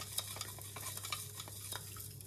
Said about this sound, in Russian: я хочу ее размешать, чтобы она растаяла